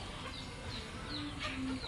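Chickens in a rain-flooded coop standing in knee-deep water give soft, scattered clucks against a steady background wash, with no talking.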